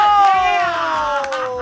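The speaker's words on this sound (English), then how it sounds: "give a round of applause if you think Peyton won" A crowd at a roast battle reacts for Peyton with a brief, loud outburst of cheering and whooping voices, with a little scattered clapping underneath.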